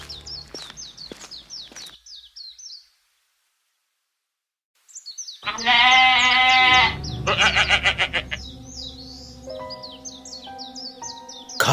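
Sheep bleat in repeated, wavering calls, some close and loud and others layered together, alongside chirping birdlike tones and a short silent gap.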